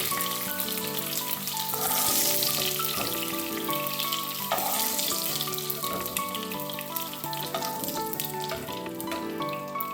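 Cashews and raisins fry in ghee in a pan for apple payasam, a dense continuous sizzle with crackling spatters that stays loud and close throughout and has no talking.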